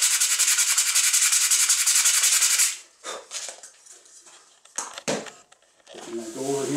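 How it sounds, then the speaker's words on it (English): A wooden cup being sanded on a woodturning lathe, a steady loud rubbing hiss that stops, followed by scattered handling clicks and brief noises. "sand out those marks from the three-jaw chuck"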